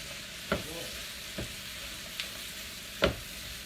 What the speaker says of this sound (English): we are going to cook this down until the vegetables soften.